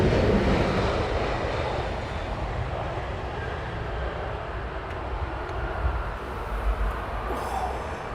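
An Aer Lingus airliner arriving on runway 27R at Heathrow Airport, a sustained jet rumble that starts louder and eases into a steady roar, with a brief swell near the end.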